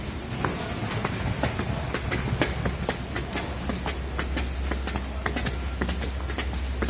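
A train rolls along a platform at Warszawa Zachodnia railway station in Poland, with steady rumble and repeated clickety-clack wheel beats over the rail joints, loud and close.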